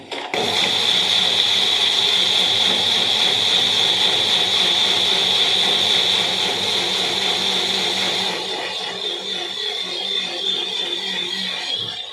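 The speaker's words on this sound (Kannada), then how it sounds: "ಇನ್ನೊಂದು ಸ್ವಲ್ಪ ಚಟ್ನಿ ನೀರು ಹಾಕ್ಕೊಂಡು ಇನ್ನೊಂದು ಸ್ವಲ್ಪ ಗ್ರೈಂಡ್ ಮಾಡಿ ತೆಗೆದುಬಿಡ್ತೀನಿ" A mixer grinder grinding chutney with added water gives a loud, steady electric whirring hum nonstop for about eight seconds, then drops to a quieter, rougher running noise.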